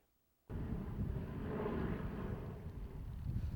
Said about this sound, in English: The most famous World War II bomber and fighter aircraft paid a visit to Torrance